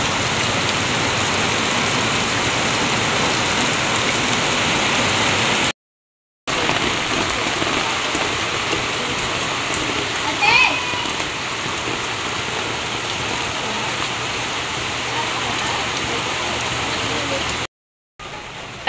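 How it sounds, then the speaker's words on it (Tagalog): Heavy rain pours in a steady, loud hiss onto a roof and a flooded house front, unbroken apart from two brief cuts to silence. "sobra po talagang lakas ng ulan"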